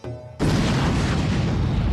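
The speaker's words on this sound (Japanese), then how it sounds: "爆発音" An explosion in the video game Naruto Shippuden Ultimate Ninja Storm 3 bursts in abruptly after a quiet moment, a loud, heavy boom that rolls on into a sustained rumbling roar.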